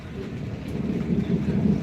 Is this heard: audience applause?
no